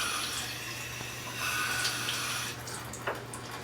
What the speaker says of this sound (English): we'll run under cool water.